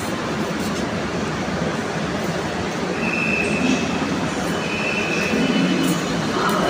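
Ernakulam metro train running on the line, a steady loud broadband rush and rumble with faint high squeals of wheels, continuous throughout.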